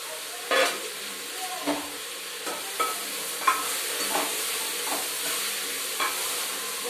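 Vegetables for okra sambar fry and sizzle steadily in a pan, with a continuous hiss broken by several soft scraping stirs spaced a second or so apart.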